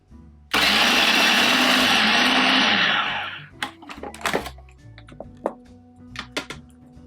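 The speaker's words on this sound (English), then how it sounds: "Now let's blitz this up until we have a nice bread crumble texture." A blender blitzes cold cubed butter and flour into crumble for a pear and cranberry dessert, a loud steady whir for about three seconds before it stops, followed by clattering and handling sounds.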